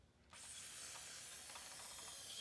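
A close aerosol can of brake cleaner sprays on a 1949 Willys truck in a steady, loud hiss that starts abruptly and continues unbroken, with faint rattling underneath.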